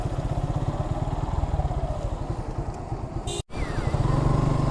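A motorcycle's engine chugs steadily and close by as it is ridden down onto a sandy beach at Teknaf, with a brief cutout before the low thrum returns.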